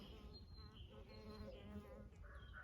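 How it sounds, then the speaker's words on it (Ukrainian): Bees buzzing steadily around, a soft continuous drone with a few nearer passes, birds faintly in the background. "Ось почали бджоли, слава тобі Боже, працювати"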